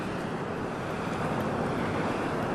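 Fast-moving river water rushes steadily along a riverside walkway in New Braunfels or Seguin, Texas, a close, dense and unbroken roar with no voices.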